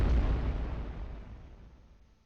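Cannon shells firing in the iBomber Defense video game, a single deep booming blast that rolls away and fades over about two seconds, with no voices.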